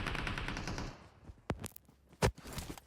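Gunfire from an enemy bot in PUBG Mobile, heard as a burst of rapid shots that gives way to quieter movement, then two sharp, separate cracks, one of them loud and close.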